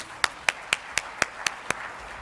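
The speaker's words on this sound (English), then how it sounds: "I think that deserves one more round of applause for Ambassador Burns" Seven sharp, evenly spaced claps ring out in a steady rhythm, fairly faint and near, for Ambassador Burns at a government briefing.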